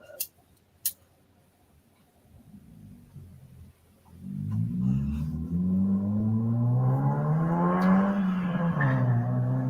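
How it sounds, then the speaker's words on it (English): A car engine with a hole in the exhaust starts up after a couple of sharp clicks, then settles into a loud, rough putt-putting rumble that rises in pitch and holds steady nearby. "I think I got a hole in my exhaust."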